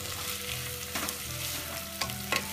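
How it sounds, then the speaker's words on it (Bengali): Cardamom, bay leaves and cinnamon fry in oil with onion for a mutton rezala, making a steady close sizzle with a few sharp stirring clatters and scrapes of the spoon in the pan. "এলাচি তেজপাতা এবং দারচিনি পেঁয়াজের সাথে একসাথে ভেজে নিলে আপনার তরকারি থেকে সুন্দর একটা ফ্লেভার বের হবে"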